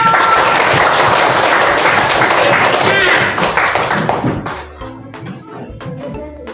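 A classroom of students breaks into loud, close clapping for a few seconds, then the applause thins out into scattered claps and a quieter tail.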